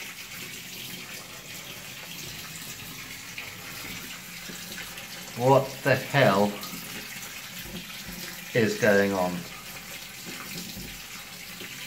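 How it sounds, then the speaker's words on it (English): Water pouring from a hotel drain pipe into a bathroom, a steady gushing wash like a running tap that goes on throughout, with someone talking briefly over it. "Because water is coming out of the drain pipe"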